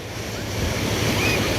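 Ocean surf rolls in at Bagasbas beach in Bicol, a loud, continuous roar of waves with rumbling wind buffeting the microphone.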